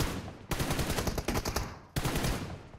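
Gunfire in PUBG Mobile, loud rapid automatic bursts rattling in quick succession, broken by two short pauses.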